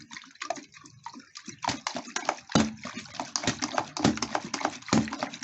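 Distilled water sloshing and rattling inside a six-year-old car battery as it is shaken in short, irregular bursts, close and fairly loud.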